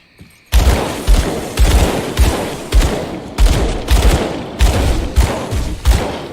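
Gunfire from the action RPG Grim Dawn, roughly a dozen loud, punchy shots in a steady, rapid rhythm, each with a short decaying tail, close and alone with no talking.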